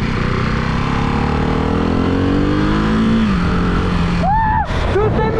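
A motorcycle engine drones loud and steady while riding through Valencia, with the pitch rising and falling as the throttle shifts, and a brief whine toward the end.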